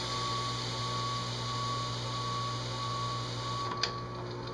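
A small DC motor whirs steadily and fairly close while engine turning is done on a 1929 car dash insert, a continuous hum with a brief sharp tick near the end.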